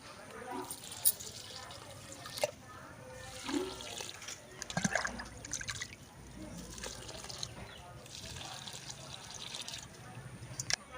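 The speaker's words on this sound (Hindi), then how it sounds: "अब चल इसने मैं पानी डाल लेता हूँ सब में" Water poured over vegetable garden beds after compost and urea are spread, heard as soft, uneven splashing and trickling in several bursts, with someone talking quietly in Hindi alongside.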